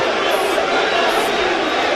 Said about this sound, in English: Well, the crowd aren't happy.